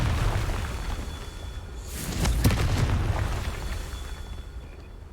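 Confringo fire spell from Hogwarts Legacy bursting in a single loud explosive boom near the middle, over steady game ambience with a brief rising whoosh leading into the blast.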